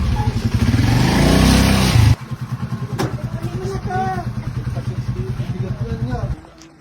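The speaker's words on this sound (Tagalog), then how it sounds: "Tricycle." A motorized tricycle engine chugs loudly up close with a rapid pulsing beat, then passes and drops to a steadier, softer putter that fades near the end, with voices talking over it.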